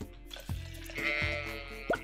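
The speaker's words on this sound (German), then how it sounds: "Sag mal, willst du jetzt vielleicht mal das Schaf scheren?" A sheep bleats in the farming game Stardew Valley, a short nasal call rising near the end of the two seconds, over steady game music with a couple of soft plopping thuds earlier on.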